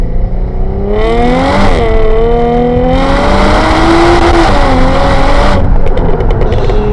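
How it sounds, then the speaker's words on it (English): A tuned 550+ horsepower V6 Jaguar F-Type engine revs hard and loud up close, pitch climbing and dropping through repeated throttle blips and sustained high revs to redline, no talking. "The thing redlined so quick, I over-revved it a little bit, peaked it out"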